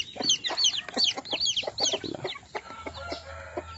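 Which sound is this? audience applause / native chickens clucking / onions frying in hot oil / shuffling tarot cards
native chickens clucking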